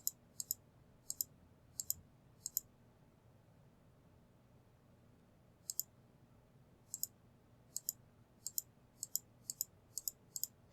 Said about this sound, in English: Again, I'm just clicking.